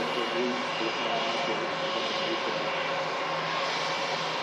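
An Airbus A320 with IAE engines arrives at Manchester Airport from London Heathrow, giving a steady, moderately distant engine roar with a broad rushing hiss that holds throughout.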